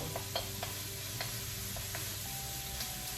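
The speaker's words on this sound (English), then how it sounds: "Sauteing my onions and peppers." Onions and peppers sautéing on high heat in a pan, a steady dense sizzle with scraping stirs and light utensil taps, close and continuous with no talk.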